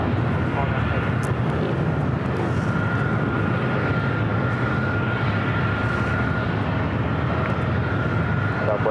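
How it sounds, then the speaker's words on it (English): Heavy Airbus A350 jet departing LAX, its engines producing a steady, loud broadband roar that holds throughout, with a faint radio-style voice underneath. "heavy Airbus 350, departing the airport."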